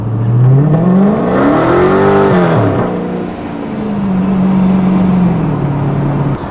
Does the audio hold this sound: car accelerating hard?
yes